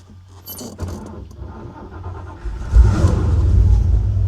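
An ignition key turns from lock to on in a 1960 Buick Electra 225. Keys jangle close by, then a loud low rumble swells and holds near the end.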